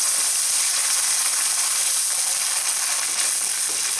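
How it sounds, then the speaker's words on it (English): Hot broth hits a heated pan of Mexican-style Spanish rice with a loud, steady hiss and crackling sizzle that stays strong and close for the whole stretch. "you want to add about 2 cups of broth."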